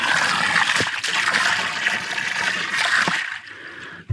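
Steady rushing water pours into a horse trough for about three seconds, loud and close, then cuts off abruptly, leaving a brief quiet.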